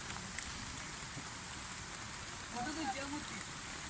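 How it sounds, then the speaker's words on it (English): Heavy rain falls steadily at the University of Chittagong near the Shahid Minar, a constant dense hiss throughout, with faint voices briefly audible underneath. "here is raining cats and dogs, so you can see."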